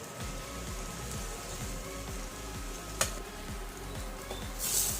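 Kashmiri chilli tempering for pav bhaji sizzling in oil in a pan, a soft steady crackle under a low rhythmic ticking hum, with one sharp clink near the middle and no talk.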